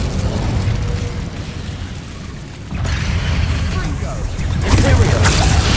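Fire from an Incendio spell in Hogwarts Legacy roars and crackles in heavy bursts with rumbling booms, swelling again mid-way and flaring brighter near the end amid clattering combat noise.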